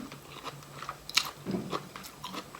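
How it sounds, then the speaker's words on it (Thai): A crisp persimmon being bitten, one crunchy snap followed by a few softer chewing crunches, close to the mic without speech. "เสียงกรอบ"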